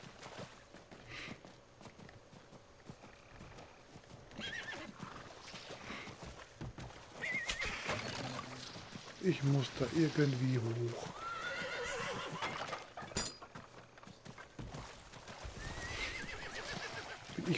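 Horse in the video game Diablo IV, clip-clopping hooves and a neigh among game effects and music, moderately loud, with someone talking over it.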